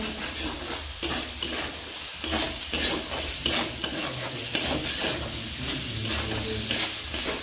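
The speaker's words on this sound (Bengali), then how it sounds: "মশলা ভাজা হয়ে গেছে" At a village kitchen, salt, turmeric and spices fry for a gugli snail dish, giving a steady, close sizzle broken by repeated scraping stirs of a spoon through the pan.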